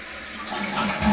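A household toilet flushing at normal volume, a steady rush of water building louder toward the end, close up and alone without speech.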